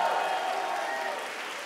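Congregation clapping in a church service, a steady dense wash of hands close by that fades slightly toward the end, with no one speaking over it.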